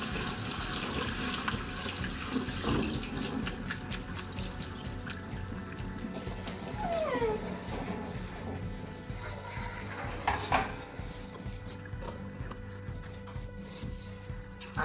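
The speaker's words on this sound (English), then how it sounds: "I like to rinse the meat when it comes out of these packages." Raw beef rinsed under a running kitchen tap in a colander, a steady close stream of water splashing continuously with small shifts in tone as the meat is moved, with no talking.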